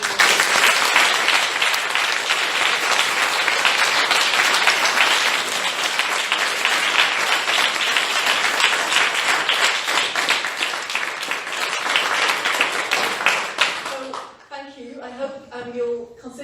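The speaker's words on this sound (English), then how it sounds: "give them all a huge round of applause" Loud, sustained audience applause at a university keynote event, dense clapping filling most of the stretch before fading out as a voice begins speaking.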